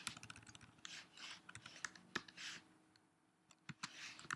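Close, quiet keystrokes on a computer keyboard come in irregular bursts as a Linux terminal command is typed, with light clicks and brief pauses between words.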